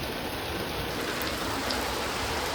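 Heavy rain pouring down steadily during flooding in Jammu, near the rising Tawi River, a dense continuous hiss of drops close by with no talking.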